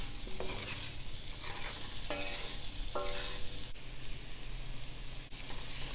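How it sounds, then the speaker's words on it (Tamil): Masala-coated baby potatoes fry in a pan with a dense crackling sizzle. Repeated scraping strokes of a stirring spoon sound close and fairly loud. "5 மினிட்ஸ் நல்லா ஃப்ரை ஆகட்டும்."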